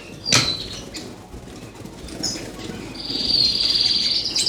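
Young cage birds in a bird room with flight cages, wings fluttering and flapping up close, a sharp burst early on followed by thin high chirping that swells toward the end.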